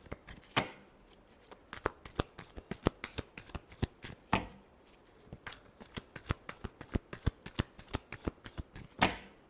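Tarot cards shuffled by hand, a fast run of crisp riffling slaps and flicks, close and fairly quiet, continuing steadily with no talking.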